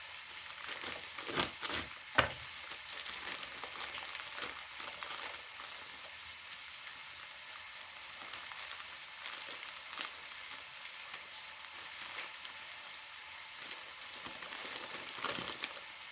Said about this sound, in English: We have got some chilies that's going in there.